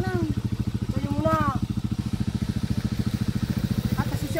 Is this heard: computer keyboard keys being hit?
no